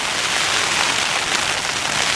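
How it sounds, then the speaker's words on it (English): Steady rain falls on a campsite at night in Yosemite, a dense, even hiss of drops with no breaks and no voices. "So hopefully it's a good rain."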